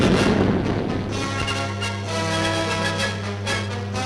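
Army artillery cannons fire during Swiss military exercises in 1951, several dull booms landing at irregular intervals over a dense, steady backdrop of sound, fairly loud and without speech.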